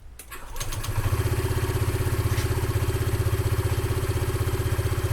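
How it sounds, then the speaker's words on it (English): A Honda ADV 150 scooter on a stock exhaust with an aftermarket variator and intake starts up and then idles steadily, a loud, close, even pulsing putter with no talk over it. "this is what it's going to sound like pretty much with a stock exhaust, with the variator and an intake"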